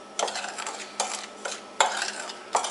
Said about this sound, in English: what you're going to do is just carefully mix this up, picking up the powder from the bottom